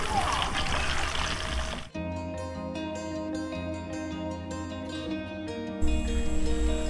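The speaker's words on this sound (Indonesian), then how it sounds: "Abdul Rohman atau Pak De Rohman menyiram bibit tanaman pangan di lahan miliknya" Food crop seedlings are watered on a garden plot in Mentawai, giving a loud, steady rush of spraying water for about two seconds before music takes over.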